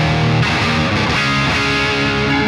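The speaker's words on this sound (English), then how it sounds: "So you got a 4-holer Plexi, and you can jump the channels. Sounds like this." Electric guitar played through a Bogren Digital BDM 75 Plexi amp simulation with a four-hole Plexi head and jumped channels, giving a loud, distorted chord passage with sustained, shifting notes and no talking.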